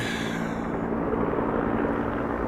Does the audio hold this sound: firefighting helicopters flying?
yes